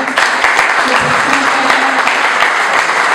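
Loud, dense applause from an audience at a hospital construction launch ceremony in Tamazula, steady and unbroken throughout with a faint voice underneath.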